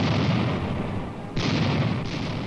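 Soviet cannon fire pounds kulak villages in a 1963 documentary on Stalin, with heavy booms and a continuous roaring barrage, one sharp report cutting in partway through.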